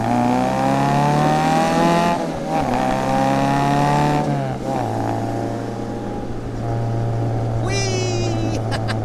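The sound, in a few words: 1960 Austin-Healey Sprite sports car engine driving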